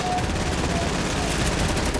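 Rapid gunfire in a Fortnite shootout, a dense burst of overlapping shots that fills the full two seconds at high loudness.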